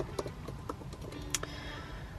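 A computer keyboard is typed on in a short quick burst of close, light key clicks with one sharper tap, over a low room hum.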